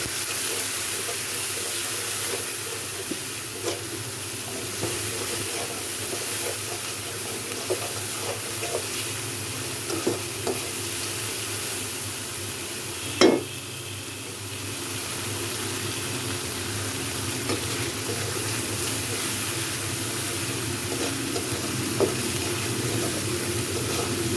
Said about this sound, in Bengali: এখন আমার পেঁয়াজটা চিংড়ি মাছ দিয়ে হয়ে গেছে, কারণ বেশি ভাজলে চিংড়ি মাছটা শক্ত হয়ে যাবে